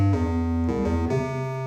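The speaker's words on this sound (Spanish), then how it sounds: "el suboscilador de este sinte nos ofrece una onda cuadrada" A synthesizer's square-wave sub-oscillator drones as a buzzy, harmonic-rich bass tone, stepping through three sustained notes over under two seconds, heard alone and steady in level.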